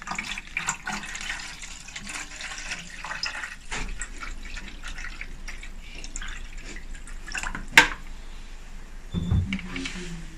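Water trickles and drips while filling the reservoir of a Flight Clave16 Class N autoclave steam sterilizer, a steady close-up pour with a few sharper splashes and clinks near the end.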